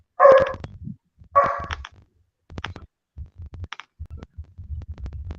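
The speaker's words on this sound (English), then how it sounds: "I thought that was Miss Blue Moon's dog barking." Two loud, sharp dog barks close by in quick succession, followed by softer low thumps and shuffling noises.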